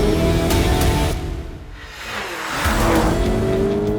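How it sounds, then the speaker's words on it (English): A Lamborghini Urus Performante SUV drifts, its engine roaring loudly up close, then easing off briefly before rising again amid whooshing tire and road noise. "Lamborghini Urus at its peak is exactly what I'm driving right now"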